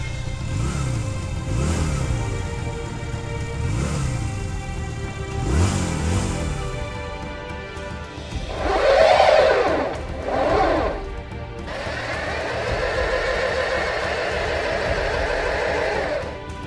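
A motorcycle engine in a Lego cartoon, sputtering and revving in uneven bursts, then a steady buzzing drone near the end.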